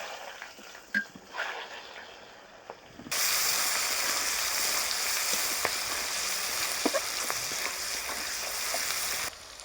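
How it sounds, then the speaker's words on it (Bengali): After a few quiet seconds, a steady hissing sizzle of onions frying in fish oil with bay leaf and whole dried chillies starts up suddenly and continues loudly, with occasional small clicks of stirring. "পেঁয়াজটা আমার ভাজা হয়ে গেছে"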